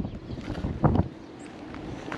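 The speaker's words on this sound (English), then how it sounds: "the wind is blowing actually pretty hard" Strong wind blows outdoors and buffets the microphone in a steady low rumble, with a brief heavier gust in the middle. No one speaks.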